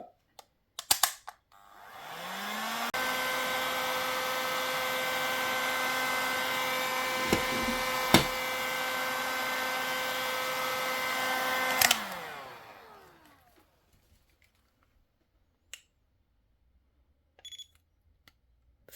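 A heat gun warming an airsoft gun spins up, blows a steady, loud whirring hiss with a constant tone for about nine seconds, then winds down and stops, with faint clicks before and after.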